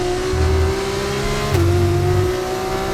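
A Formula 2 race car engine in the F1 25 game at Canada, a loud steady high-pitched drone that dips briefly with a gear change and then holds, with no talk over it.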